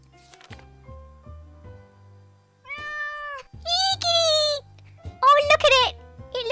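Several cat meows from the survival video game 60 Seconds, a few short calls in sequence with a longer, brighter meow near the end; clear and up front, with faint game sounds underneath.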